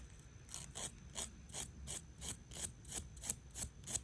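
A nail file rasping back and forth across toenails during a home pedicure, about a dozen quick, even scraping strokes in steady rhythm, close and quiet with no talk.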